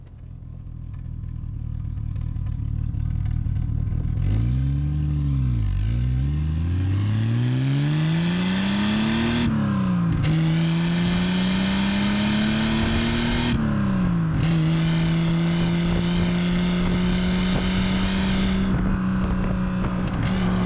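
A classic Triumph TR5 engine drives on the road. It is loud and close, revving up through the gears with rising pitch, then dropping at each shift before settling into a steady, smooth drone.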